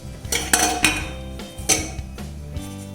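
A metal frying pan clanks and rattles against a stovetop as it is set down for deep frying snacks, giving several sharp, close metallic knocks spaced irregularly.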